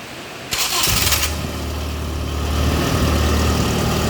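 An engine is cranked with its electric starter in a short whirring burst, then fires and keeps running at a steady, fairly loud idle; no one speaks.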